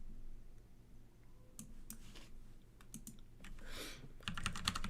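Someone types on a computer keyboard, producing quick bursts of close, light key clicks over a low background hum; the clicks grow denser and louder toward the end.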